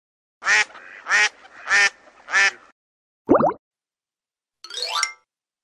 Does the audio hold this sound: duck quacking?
yes